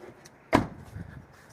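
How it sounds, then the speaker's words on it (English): Door of a 2017 Toyota Yaris 1.5 Hybrid closing with a single firm thunk, close by, followed by a faint rattle and quiet background. "I'll close the door."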